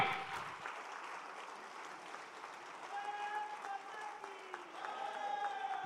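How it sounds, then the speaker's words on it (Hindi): An audience applauds at the close of a political speech by Amit Shah, a faint, steady wash of many hands clapping that swells slightly toward the end, with some tonal hum and faint voices behind it. "जोरदार तालियों के साथ एक बार"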